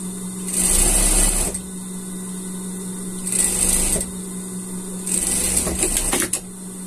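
Sewing machine stitching elastic onto children's unicorn pajamas: three loud bursts of rapid mechanical whirring and clattering, each a second or so long, separated by quiet pauses with a steady low motor hum underneath.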